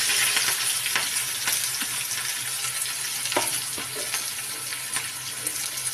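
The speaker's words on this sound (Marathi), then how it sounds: "तर याच गरम तव्यामध्ये आपण बुर्जी बनवणार" Bhurji fries in oil on a hot tawa, giving a steady, close crackling sizzle with occasional sharper pops and stirring scrapes throughout.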